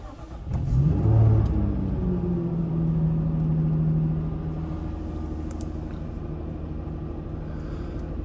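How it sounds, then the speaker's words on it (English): A Jaguar F-Type's supercharged V6 starts with a sharp crank and loud revving flare close by, then settles into a deep, steady idle rumble, with no talking. "we'll start up the supercharged V6"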